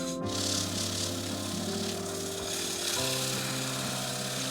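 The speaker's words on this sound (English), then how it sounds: "I'll turn the lathe on slowly just to work it through, even slower than that." A wood lathe turning slowly at about 350 RPM while sand sealer is worked into the wood, a steady motor hum with tonal drones and a soft continuous rubbing hiss.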